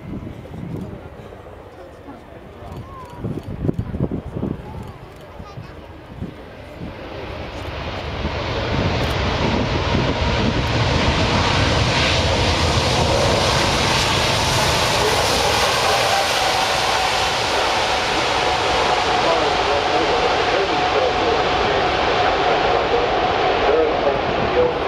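An Airbus A380 passing low over an airshow, its jet engines swelling from a distant rumble into a loud, sustained roar that holds to the end, with someone talking faintly early on.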